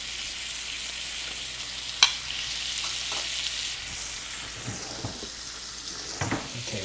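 Blackened pork and shrimp for an omelette frying in a pan, a steady close sizzle with a sharp clink of a utensil early on and light stirring scrapes, no talking.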